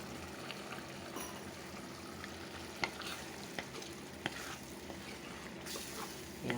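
Coconut milk curry simmers in a pan with a soft, steady bubbling sizzle, broken by a few sharp clicks and scrapes of stirring.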